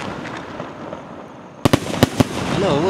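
Sivakasi skyshot firecrackers explode during an outdoor test, with four sharp, loud bangs in quick succession rising above a steady background rumble.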